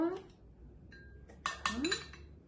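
Spoon scraping a blender jar and serving a smoothie into a small cup: a few light clinks and scrapes of utensil on glass, close and quiet, with brief soft vocal sounds.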